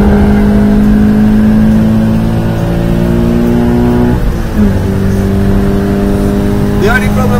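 Subaru BRZ accelerating on a race track, a loud in-car engine drone rising steadily in pitch, then dropping at a shift and climbing again.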